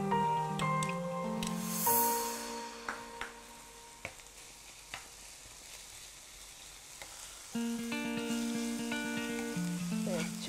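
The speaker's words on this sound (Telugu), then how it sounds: "మనం దీన్ని స్వెట్ అయ్యేంత వరకు, అంటే కొంచెం వాటర్ కంటెంట్ రిలీజ్ అయ్యేంత వరకు ఫ్రై చేసుకుందాం" Chicken pieces sizzle and fry with onions in a hot pan, a steady close crackle with occasional clinks and stirring knocks throughout, while tonal background music plays underneath.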